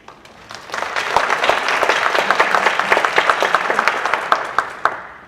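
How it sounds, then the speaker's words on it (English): Applause from an audience at an all-staff meeting greets a miner's descendant introduced on stage, many hands clapping steadily and fairly close for several seconds, with a few sharper individual claps standing out before it fades. "Give her a round of applause."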